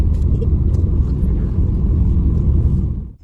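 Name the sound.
car driving on the road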